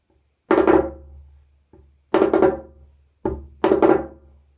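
Sharp finger flicks on a djembe, four bright snapping hits in an uneven pattern, each ringing briefly with a low drum resonance underneath, close and without talk.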